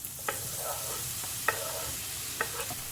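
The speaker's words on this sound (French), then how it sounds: "quand il est fondu, je mets mes morceaux de pommes" Apple pieces sizzle in melted butter in a frying pan on a gas stove, a steady hiss broken by a few short clinks and scrapes of stirring; nobody talks.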